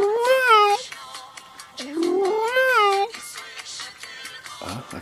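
A domestic cat at a care home canteen gives loud, close, drawn-out meows, two long wavering calls followed by shorter ones, alone without talk.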